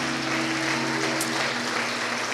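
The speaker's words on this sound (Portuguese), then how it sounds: "Dê um forte aplauso ao Senhor Jesus" A church congregation claps loudly and steadily during a Sunday communion service, a dense, sustained wash of applause with a faint steady hum underneath and no voices.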